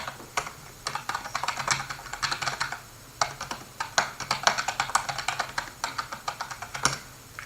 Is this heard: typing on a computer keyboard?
yes